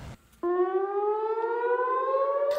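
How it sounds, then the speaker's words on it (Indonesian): A civil defense air raid siren in Tel Aviv starts abruptly after a brief quiet moment and holds a loud, steady wailing tone that fills the rest of the clip. "sirine di Tel Aviv berbunyi"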